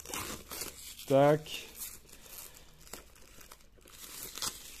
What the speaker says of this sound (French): Donc, on va déballer ça.